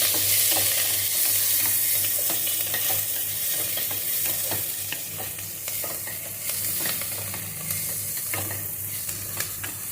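Onions frying in oil for a drumstick (munaga kada) masala curry, with a steady sizzle and a low hum beneath repeated scraping stir strokes, constant and fairly loud throughout, with no voices.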